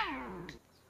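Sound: cat meowing

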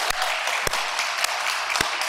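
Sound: congregation clapping

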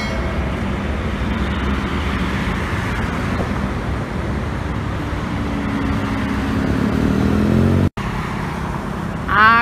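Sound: buses and traffic passing on a toll road

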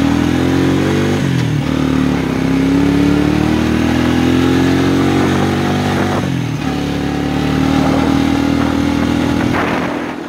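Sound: 1992 Quadrunner 300 ATV engine running

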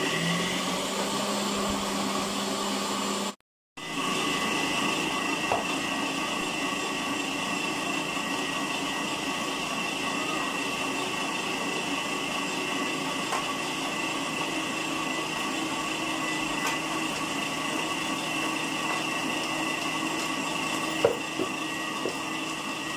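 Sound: electric meat grinder running at full speed

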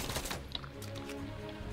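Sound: gunfire aimed at the player in the video game Fortnite

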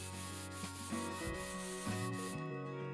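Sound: scrubbing the rear car seat clean, from video game Car Detail Simulator

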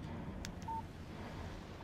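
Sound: phone text message tone in Alan Wake video game

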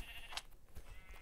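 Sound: sheep bleating in a video game

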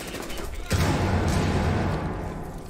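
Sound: concussion grenade exploding in a video game

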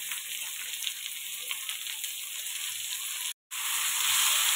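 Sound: tomatoes added to frying onions in pan, sizzling

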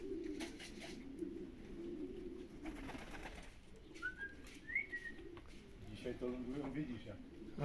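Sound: racing pigeons cooing

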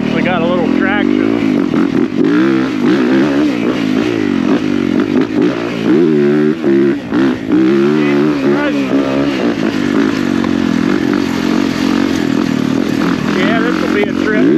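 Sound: 450 dirt bike engine while riding

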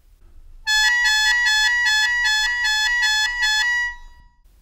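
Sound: shō playing a piano-style trill between two notes

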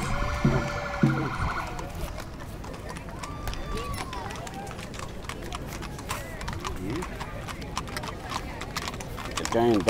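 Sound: horse hooves clip-clopping

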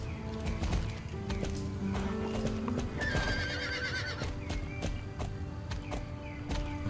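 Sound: horse hooves and neighing in video game Star Stable

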